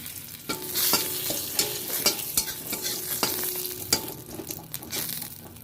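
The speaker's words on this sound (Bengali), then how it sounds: "এই মাছ ভাজার তেলেতেই আমি একটা শুকনো লঙ্কা আর একটা তেজপাতা ফোড়ন দিয়ে দিলাম" Dried red chilli and a bay leaf crackle in hot oil left from frying fish, a steady close sizzle broken by sharp spatters and scraping stirs.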